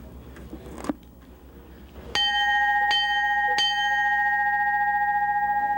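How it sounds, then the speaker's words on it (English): A large bell at Navy SEAL training is struck three times in quick succession, each clang ringing out with a long, clear sustained tone after a quieter lead-in. "A student has to ring this bell 3 times in front of all of his other classmates."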